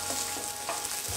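Sesame seeds fry in a pan for mint and coriander chutney, giving a short steady sizzle with a few soft stirring scrapes, no voices.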